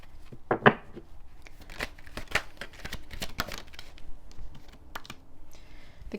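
Tarot cards are shuffled by hand to draw one more card, with close, irregular flicking, riffling and snapping of card stock plus scattered crisp taps.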